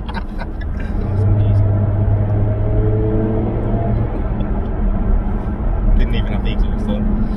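A Jaguar F-Type 400 Sport accelerating hard in a pull, its engine note rising steadily as it revs, loud and close from inside the car, with a continuous roar and rumble throughout.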